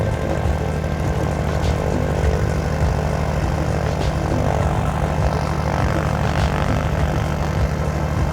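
A propeller airplane drones steadily in flight over the Canadian mountains, a loud, even engine and airscrew roar filling the cabin without letup and with no voices.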